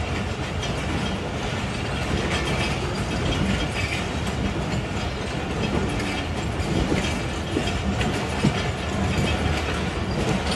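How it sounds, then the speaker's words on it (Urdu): The Allama Iqbal Express passenger train rolls into Karachi Cantt railway station, its continuous loud rumble mixing with rhythmic clickety-clack of wheels over rail joints and faint wheel squeal, with no voices. "10 علامہ اقبال ایکسپریس اپروچ کر رہی ہے اپنی لاسٹ اسٹیشن پر"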